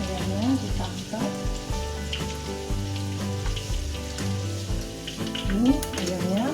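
Chicken pieces frying in hot oil for soto ayam, a crackling sizzle beneath upbeat background music with a rhythmic pulse.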